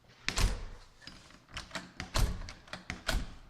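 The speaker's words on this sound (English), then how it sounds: "let's test the door out and see if we're latching" A door is tested after being shimmed to fit its frame, shutting with a few sharp knocks and thuds and a latch click, heard close and moderately loud.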